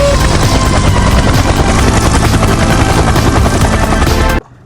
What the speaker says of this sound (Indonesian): Koko punya helikopter TNI.